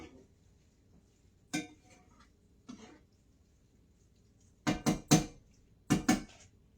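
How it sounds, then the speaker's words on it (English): Ground beef being stirred in a pan for sheet pan nachos, heard as a few sharp utensil scrapes and clatters spaced across a quiet background, the last ones grouped in quick pairs. "Just stirring up my beef"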